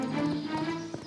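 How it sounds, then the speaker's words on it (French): Horse hooves clip-clop at a gallop in a documentary reenactment of a night ride toward Falaise in medieval Normandy, with a brief whinny, rhythmic and fairly close beneath a sustained tonal music bed. "Guillaume s'est enfui, a chevauché toute la nuit en direction de Falaise."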